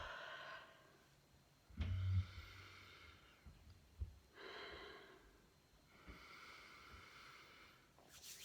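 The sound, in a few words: deep inhale breathing in essential oil scent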